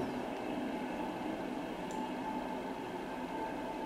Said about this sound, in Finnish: Tavallinen juna tulee.